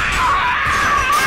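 A Wretch creature from Gears of War lets out a loud, sustained, shrill scream, close and unbroken for about a second.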